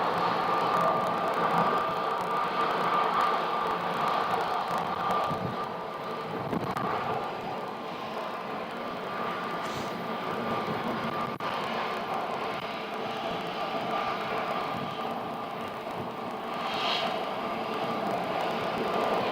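A departing American Airlines jet at Phoenix Sky Harbor roars with a steady, broadband engine rumble and hiss that holds strong throughout, with wind noise mixed in and no talking.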